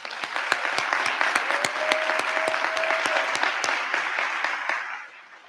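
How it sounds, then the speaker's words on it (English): Applause from a crowd at a Faith in Indiana advocacy gathering, a dense, steady wash of clapping with a few sharp individual claps standing out, holding for about five seconds before tapering off. "Can we give them another round of applause?"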